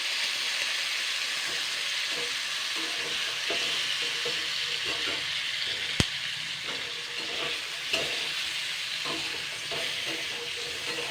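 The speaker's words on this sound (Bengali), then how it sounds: "জাস্ট ডালের বড়াগুলো ওপর থেকে একটু হালকা ভেজে নেব।" Chana dal lentil fritters (bora) fry in a pan with a steady, close hiss of bubbling oil, broken by a few soft clinks and stirring scrapes.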